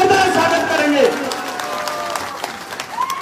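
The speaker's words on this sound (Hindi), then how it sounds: "सब लोग खड़े होकर ताली बजाएंगे पूर्ण कृष्णम जी के लिए" A crowd applauding a guest at a political gathering, dense clapping rising under a loud amplified voice addressing the audience, then thinning out.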